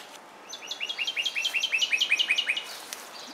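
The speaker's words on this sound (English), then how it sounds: "I think that's a cardinal chirping away." A northern cardinal chirps in a rapid series of about fifteen bright, repeated notes, fairly close and clear over a quiet background in a backyard garden.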